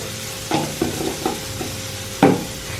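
A spoon stirs spices into a cooked mixture frying in a pan. Several distinct scraping strokes come close over a soft sizzle, with a louder stir near the end and no talk.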